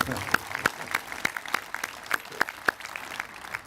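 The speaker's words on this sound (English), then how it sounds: "Give applause, please, to this campus." A graduation ceremony crowd on a campus gives sparse applause: sharp, distinct hand claps spaced at a fairly even pace over a quiet room, with a voice faintly underneath.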